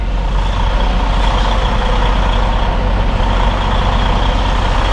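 A semi truck with trailer backs up in a driving-school yard, its loud, steady diesel rumble and broadband engine noise continuous and close throughout, with no clear reversing beeps standing out.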